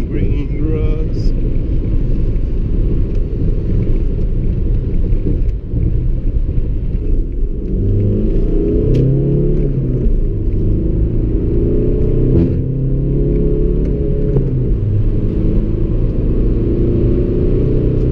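A remapped Audi A3 1.9 TDI (8L, 90 hp tuned to about 155 hp) drives and accelerates through countryside, its diesel engine droning loudly and steadily throughout with a deep rumble, rising in pitch partway through.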